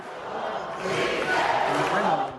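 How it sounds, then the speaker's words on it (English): Large crowd chanting in unison outside the National Theatre in Guatemala City as it awaits Bernardo Arévalo's delayed presidential inauguration, a steady, dense roar of voices that swells louder midway and holds. "Yes, it was possible, the crowd chanting"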